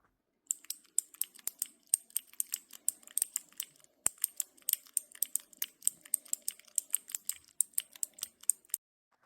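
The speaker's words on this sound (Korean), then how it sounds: "이 키보드 키링이 인기예요. 스트레스 받을 때 이 키보드 두드리는 소리를 들으면" Keys on a small keyboard keychain toy are tapped in rapid, uneven clusters of crisp clicky strikes, close and fairly quiet, continuing for several seconds with no voices.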